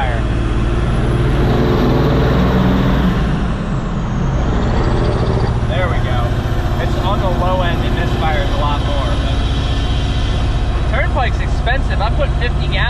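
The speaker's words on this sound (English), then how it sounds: "Listen to this thing misfire." A hotshot truck engine misfiring after losing a cylinder, a loud, close, rough idle with uneven rumbling pulses, heard while hissing spray from degreasing runs in the background and a voice talks over it.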